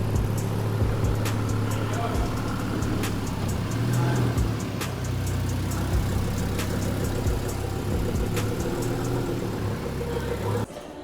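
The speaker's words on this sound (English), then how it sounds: "the car just moved under its own power" A Mk7.5 Volkswagen Golf R with a swapped engine, apparently from an Audi, rumbling at a steady low idle as it creeps forward under its own power, close by and continuous, with faint voices in the background.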